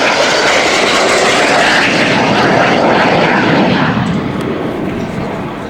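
A Hawker Hunter jet flies low past the crowd at an air display, its engine a loud, dense roar that holds steady and then slowly fades as it moves away.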